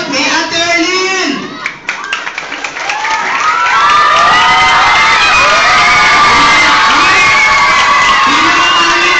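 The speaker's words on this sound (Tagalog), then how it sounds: "palakasan ng palakpak" Children at a mission Christmas party shout, cheer and clap loudly, starting with scattered claps and voices and swelling into a dense, sustained roar of shrieks and applause close by.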